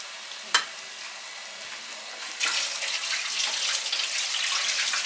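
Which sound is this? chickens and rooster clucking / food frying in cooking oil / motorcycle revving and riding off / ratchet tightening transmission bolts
food frying in cooking oil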